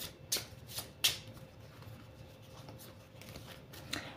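A deck of tarot cards is cut and shuffled close by, with several crisp riffling flicks and soft papery slides spread over a few seconds and no talking.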